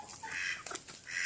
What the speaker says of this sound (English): Dumb duck.